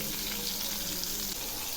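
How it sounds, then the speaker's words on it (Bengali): Cross-cut pointed gourd (potol) slices fry in hot oil with a steady, bright sizzle, close and continuous. "এই পটলগুলো আমি খুব সুন্দর করে ভেজে নেব"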